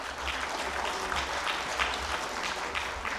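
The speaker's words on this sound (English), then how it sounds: "Please welcome our speakers with a round of applause." Audience applause at a leadership panel on healing nature, oceans and ecosystems, a steady, dense wash of clapping from a large crowd that holds at an even level for the whole stretch, with no voices over it.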